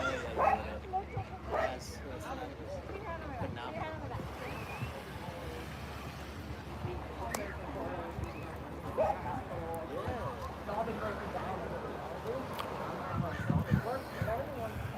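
Dogs barking and yipping outdoors in San Francisco, several sharp barks and a brief whimper scattered through a busy ambient wash with waves or water nearby, with someone talking over much of it.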